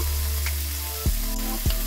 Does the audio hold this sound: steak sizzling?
yes